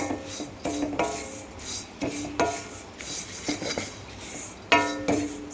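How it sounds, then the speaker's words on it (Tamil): Flattened rice (aval) roasting in ghee in a pan, stirred with a metal spoon, giving repeated scraping and clinking strokes over a soft rustling crackle, close and moderately loud, with no talking. "நல்லா நெய்யிலேயே வறுபடட்டும்"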